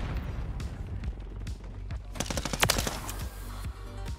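Sidewinder gun firing in the video game Modern Warfare 3: bursts of sharp gunfire cluster mid-clip, with a few scattered shots before and after, over a busy game soundscape.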